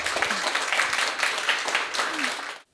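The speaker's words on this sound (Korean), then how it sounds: "큰 박수 한 분만 부탁드립니다" An audience at a Korean talk concert breaks into warm applause for a mentor, dense clapping that carries on briefly and stops abruptly, with some talk mixed in.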